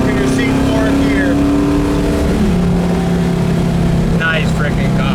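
A deep V8 engine in a 1967 Camaro Yenko tribute muscle car revs up and climbs in pitch, then shifts down and keeps pulling, loud and close, with voices talking over it.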